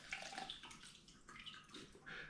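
A fly fishing line is rinsed in clean water, with faint irregular splashing and swishing at a low level close by and no talking.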